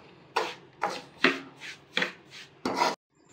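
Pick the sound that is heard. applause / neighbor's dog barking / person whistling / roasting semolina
roasting semolina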